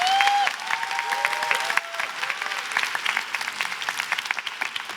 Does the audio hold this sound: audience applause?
yes